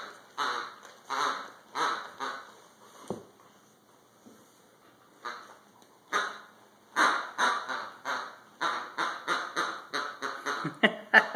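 Repeated squeaks from a rubber duck dog toy in quick bursts, near and loud, with a short pause early on, then rapid squeaking toward the end.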